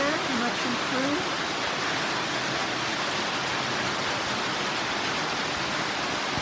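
Heavy rain pours down in a dense, even hiss that fills the whole stretch, with a brief voice-like trace near the start.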